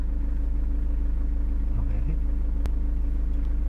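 A car being driven, its engine giving a steady low rumble and road hum throughout, with a single brief click partway through and no talking.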